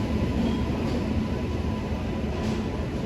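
A superfast express train rolls into a station on its way to Guruvayur, giving off a loud, steady rumble of wheels and carriages close by with no clear gaps.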